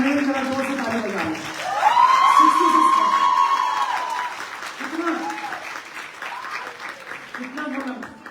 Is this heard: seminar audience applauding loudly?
yes